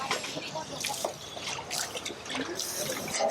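Water pours and splashes steadily into a cooking pot close by, a continuous trickling gush with no voices.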